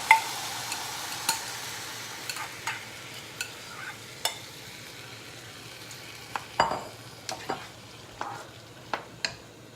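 Rice and coconut milk are stirred in a pot for a Kapampangan biringhi, a soft bubbling simmer broken by scattered clicks and scrapes of the spoon against the pot, close and unhurried, with no talking.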